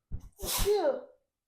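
A single sharp sneeze, loud and close, with a quick intake of breath before the burst and a short voiced tail.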